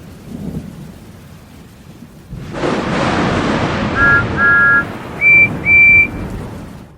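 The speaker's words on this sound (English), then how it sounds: "At the docks, the wind and rain were lashing down on Cranky." A storm sound effect with wind and rain: a soft lead-in, then heavy rain and a rolling thunder roar swelling in loudly, with short bright chime tones sounding over it near the end.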